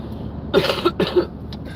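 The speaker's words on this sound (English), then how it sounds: "I know I have a cough" A short run of two or three harsh coughs, close and loud, within about a second.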